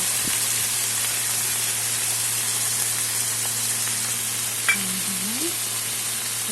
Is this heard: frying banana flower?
yes